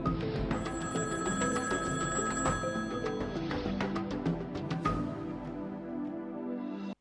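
A telephone bell rings out in repeated bright, metallic trills, loud and close, alone without any talk, its bursts fading and cutting off at the end.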